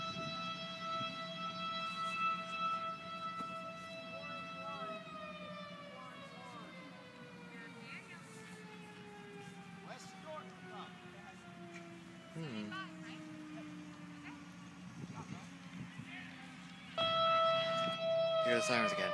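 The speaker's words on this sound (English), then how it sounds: "Here are the sirens again." A fire siren wails in the early morning, a long, sustained tone that slowly falls in pitch before restarting, heard at a distance and quite faint, while people talk quietly nearby.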